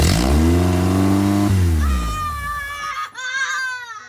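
A newly installed engine in a Honda Civic cranks and fires, a loud rough roar that sputters and drops away, leaving a higher whining tone as it dies out within a few seconds.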